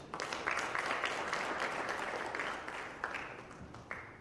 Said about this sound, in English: A big round of applause for all the panelists.